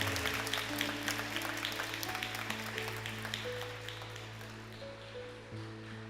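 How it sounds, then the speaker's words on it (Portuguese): A church congregation applauds in steady, dense clapping, moderately loud, with sustained keyboard or organ notes held underneath. "Vamos aplaudir a Cristo."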